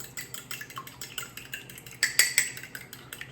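A fork beats an egg and a dollop of milk together in a bowl for an egg wash, giving quick, steady clinking taps against the dish that grow louder and sharper near the end.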